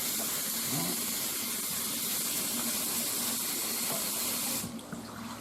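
Tap water runs continuously into a sink while puwha leaves are washed, making a loud, even gush that cuts off abruptly near the end.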